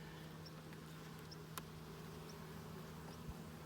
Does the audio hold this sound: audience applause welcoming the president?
no